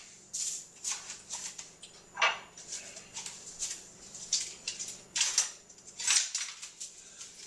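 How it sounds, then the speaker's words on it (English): Cumin seeds and whole dried hot peppers are pushed around a hot pan, giving quiet, irregular scraping and rattling strokes, with soft ticking clicks from the seeds against the metal. "Then I just push them around the hot pan until they get kind of toasted"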